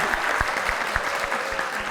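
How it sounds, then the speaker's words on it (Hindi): A studio audience gives steady, dense applause during a talk show, a continuous wash of clapping heard fairly close for two seconds. "पहले तो बहुत सारी तालियां हो जाएं वीना जी के लिए"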